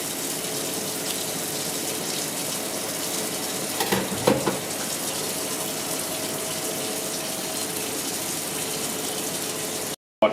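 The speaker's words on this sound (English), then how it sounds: "Just clean it under water." Steady running tap water splashes continuously as green figs (bananas) are washed, with a few brief clatters partway through; no voices.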